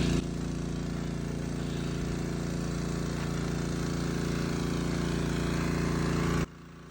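Semi-trash pump draining a flooded swamp on a mountain construction site, a steady loud engine drone with a constant rattling throb that runs unbroken, then abruptly drops to a quieter hum near the end.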